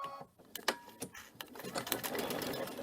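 A sewing machine works back and forth stitching a lace applique, giving quiet, uneven bursts of mechanical chatter with sharp clicks in between.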